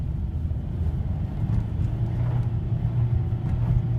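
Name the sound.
2009 Nissan Rogue car with tires spinning, traction control on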